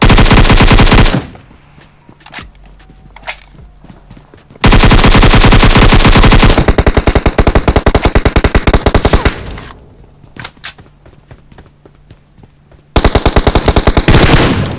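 Enemy player's gunfire in a shooter video game: loud, close bursts of rapid automatic fire in repeated long strings, separated by quieter stretches with scattered single shots, no talking.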